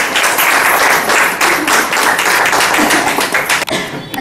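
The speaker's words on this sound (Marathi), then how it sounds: "एकदा त्यांच्यासाठी जोरदार टाळ्या" A crowd gives loud, sustained applause for a women's bhajan group at a Ganesh festival gathering, dense clapping filling the whole stretch without a break.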